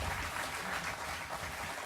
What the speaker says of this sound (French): Je voudrais qu'on les applaudisse un petit coup, là, quand même, s'il vous plaît.